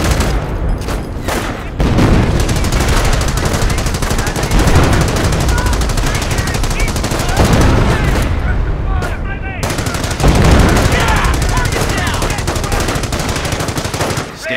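Dense machine gun and rifle fire in the Company of Heroes video game, loud and nearly continuous with overlapping bursts and booms, and voices speaking amid the battle.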